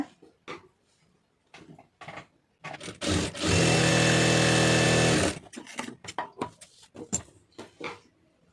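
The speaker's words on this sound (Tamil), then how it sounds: "இது அப்படியே ஓட்டு தையல் போட்டுக்கலாம்" A sewing machine stitching a plain blouse, with a steady loud whir for about two seconds, framed by scattered clicks and handling taps of the fabric before and after. No voices.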